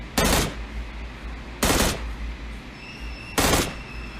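Three loud bursts of automatic gunfire from PUBG Mobile, each a short rapid volley about half a second long, spaced roughly every one and a half seconds over a low steady game background hum.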